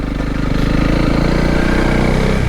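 Steady, loud engine drone of a Honda CRF300 Rally motorcycle riding along a public byway lane, with a continuous throbbing low hum and no talk.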